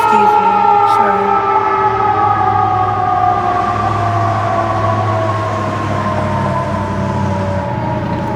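An ambulance siren wails loud and steady, its tones sliding slowly downward as it passes, over a low rumbling of traffic; no one speaks.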